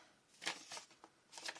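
Pieces of paper are handled and shuffled close by, giving a few soft, crisp rustling swishes in short bursts against a quiet background.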